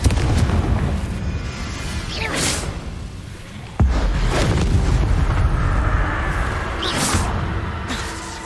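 Confringo fire spells in Hogwarts Legacy, set in a collector's cave, burst in several booming blasts with whooshing flares. One sharp explosive crack stands out midway above a rumbling background.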